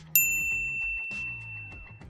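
A notification bell dings twice, bright and clear, with each ring fading out slowly over a soft low background.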